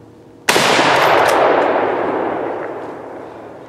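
A single loud rifle shot cracks out during an opening-weekend Pennsylvania deer drive, followed by a long, rolling echo that slowly fades across the woods.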